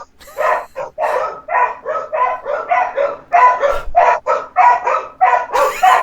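A dog barks repeatedly and close by, about fifteen sharp, evenly spaced barks in a steady alternating rhythm, with a few higher yips mixed in.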